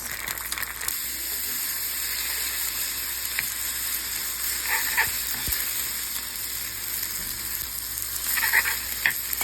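Indomie Indonesian noodles frying in a pan, a steady bright sizzle with occasional clinks and stirring scrapes, fairly close and without talk.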